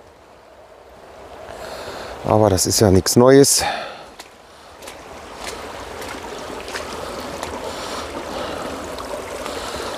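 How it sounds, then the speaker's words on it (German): Water gushing and bubbling along a forest stream makes a steady, moderate rushing noise, briefly covered by a person talking before it continues alone. "das Wasser sprudelt überall rum"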